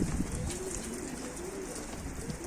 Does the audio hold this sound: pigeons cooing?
yes